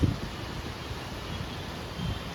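Strong wind roars steadily with rustling and a low rumble, gusting slightly louder at the start and near the end.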